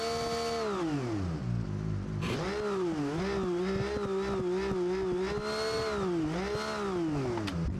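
A flathead inline-six car engine in BeamNG.Drive revs hard, its buzzing tone climbing, dipping and surging again in repeated waves, loud and close with no voices.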